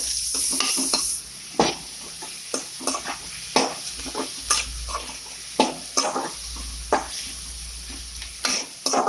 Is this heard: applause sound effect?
no